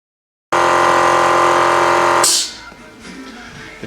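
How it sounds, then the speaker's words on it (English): An air compressor runs loud and steady, being charged to inflate a bicycle inner tube, a constant droning hum that cuts off after about two seconds, leaving faint room noise and small handling sounds. "So next I need to charge my"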